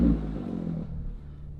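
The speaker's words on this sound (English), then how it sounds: "Sounds incredible, and you can hear that supercharger coming." A supercharged Lotus Evora GT engine with the exhaust valves open, a brief deep rumbling burst that settles into a lower drone, close and without speech.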